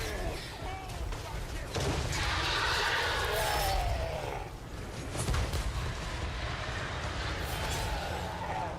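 Hell Cannon artillery fire in the Total War: Warhammer 3 video game, with heavy booming blasts and rumbling battle noise layered over a dense, continuous din of combat.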